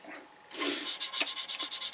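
Sandpaper rubs across a turned three-cornered wooden bowl in quick, regular rasping strokes, close and fairly quiet, alone after a brief soft start.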